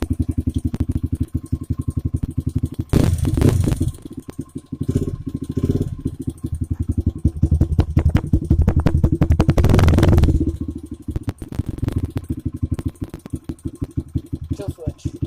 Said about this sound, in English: She starts right out first kick every time